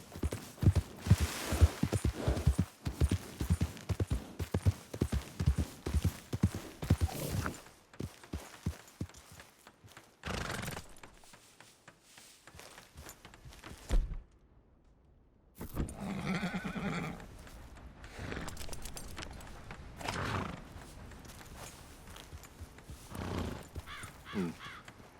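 A horse in the Red Dead Redemption II western game clip-clops along in quick, loud hoofbeats, then slows and falls quiet, and later gives a neigh; caw-like calls and softer ambience follow.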